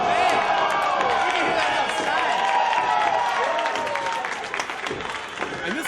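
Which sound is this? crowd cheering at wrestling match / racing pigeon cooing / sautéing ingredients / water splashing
crowd cheering at wrestling match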